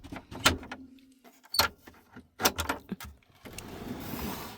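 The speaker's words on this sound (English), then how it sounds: "And the drawer slides out." A refrigerator drawer in a 2017 custom camper conversion slides out on its slide, with a few separate clunks and knocks and a rattling scrape at the end, heard close up and without talk.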